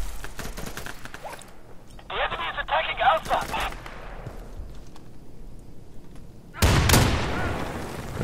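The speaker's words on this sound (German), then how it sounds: "Ja, wo kommen die Schüsse?" Sharp bursts of gunfire crack in the video game Insurgency, first in scattered shots, then a loud volley near the end, with some voices talking over it in German.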